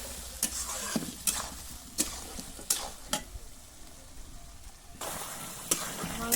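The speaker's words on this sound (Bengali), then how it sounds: "মাংসটা ভাজা হয়ে গেছে" Chicken pieces frying in a pan for a village-style chicken and potato curry give a soft, low sizzle with sharp spatula scrapes and clanks at irregular intervals, with some talk nearby.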